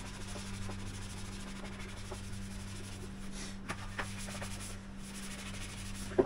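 Sponge rubbing over seashell-encrusted items pulled from a dumpster, a steady close scrubbing texture with a constant low hum underneath and a few sharper knocks near the end.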